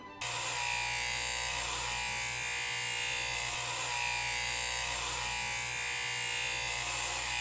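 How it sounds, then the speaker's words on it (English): Electric clippers buzz steadily while a man shaves his own head, a close, continuous, loud drone with slight wavering as the blades move across the scalp, no talking. "I'm gonna, shave my head."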